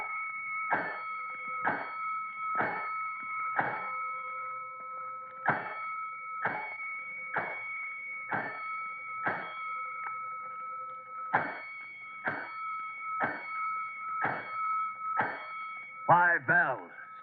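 Fire station alarm bells in an old radio drama, a steady series of sharp, evenly spaced strokes over a sustained electronic tone, moderately loud, with a voice speaking near the end.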